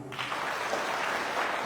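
Rally crowd in Sissala East applauding at a political campaign event, a steady wash of clapping that fills the whole moment without a break.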